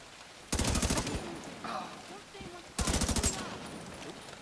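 Two bursts of rapid automatic gunfire in Tom Clancy's The Division 2, each about three quarters of a second of evenly spaced shots, separated by quieter in-game ambience with faint voices.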